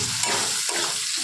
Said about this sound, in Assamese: ইয়াতে এতিয়া অকণমান বেঙেনা আছে মই বেঙেনাখিনি দি দিলোঁ